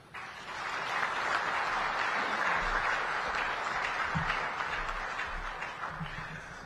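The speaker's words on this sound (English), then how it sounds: "Another round of applause for the SADC Executive Secretary, His Excellency Mr. Elias Magosi." An audience applauds after a speech at a SADC heads of state summit, a broad, steady wash of clapping that swells quickly, holds evenly, then tapers off, heard from a distance in a large hall.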